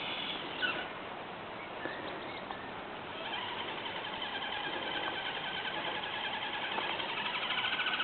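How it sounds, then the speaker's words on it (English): FTX Kanyon RC car electric motor labouring to gain speed, a faint, steady high whine that grows slightly louder and busier over several seconds, heard alone. "You can hear that yourself, struggling to get speed up."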